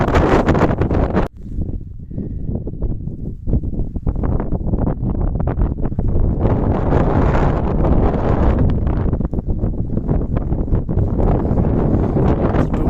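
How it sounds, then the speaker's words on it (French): Strong, steady mountain wind on Slavkovský štít (2,454 m), Slovakia, buffets the microphone in loud roaring gusts, with rustling and blustery rumble throughout and no voices. "c'est le vent qui te glace le sang là, qui te mord."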